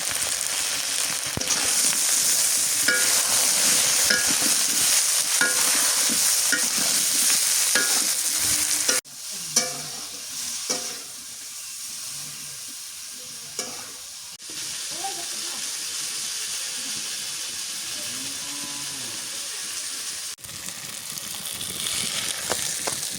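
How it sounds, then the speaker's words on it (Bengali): Silver carp fish and pointed gourd frying in oil, a loud steady hiss and sizzle with occasional stirring scrapes, dropping briefly quieter midway before resuming, with faint voices now and then. "পটল ভাজি হয়ে গেছে, তেল দিয়ে তেলানি করি করুন।"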